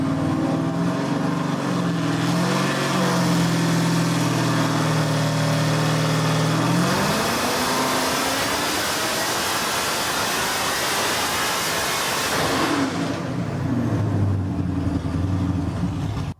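A 1300 wheel-horsepower Corvette roars on a dyno during a sixth-gear pull. The loud engine rises in pitch, swells into a dense, harsh full-throttle blast, then settles back toward a lower drone.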